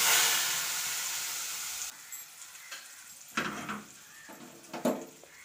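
Kashmiri chili powder mixture poured into hot mango pulissery, giving a loud, bright sizzle at the start that fades to a quieter crackle, with a few brief clinks and stirring bursts after.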